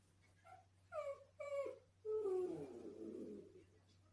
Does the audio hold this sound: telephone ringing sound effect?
no